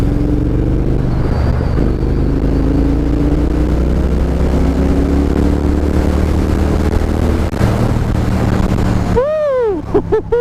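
A Triumph Thruxton R motorcycle engine in road mode pulls hard under acceleration, a loud, steady rising drone with climbing harmonics throughout, then a brief sharp swell near the end.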